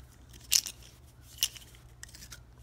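A blade slices open a cardboard box in two short, sharp cuts, faint and close in a quiet room.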